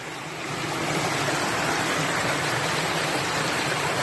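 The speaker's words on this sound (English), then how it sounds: "the water is still running down the trail ever so lovely" Rain runoff rushes down a steep hiking trail in Maine in autumn. The water makes a loud, steady hiss that swells in the first half second and then holds constant.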